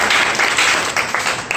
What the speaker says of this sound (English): a round of applause for our students